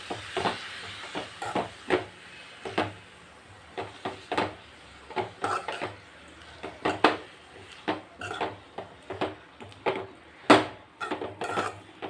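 Spinach sautéed in oil in a pan gives repeated rhythmic scraping and clanking of a spatula against the pan, close and fairly loud, over a faint hiss, with no talking.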